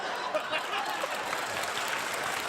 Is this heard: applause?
yes